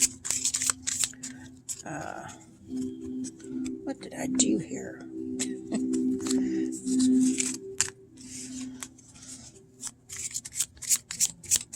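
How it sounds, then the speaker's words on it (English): Tarot cards being shuffled by hand in quick bursts of riffling and sliding, close up, while a person speaks softly over part of it. "So let's shuffle it and see."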